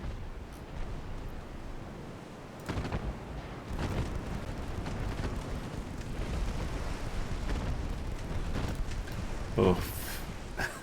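Explosions aboard warships in the naval game Ultimate Admiral Dreadnoughts, a steady rumbling roar of battle with several dull booms and a sharper blast near the end, while someone talks over it.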